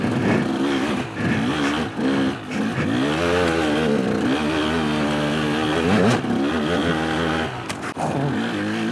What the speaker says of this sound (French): Franchement, j'aime trop cette moto.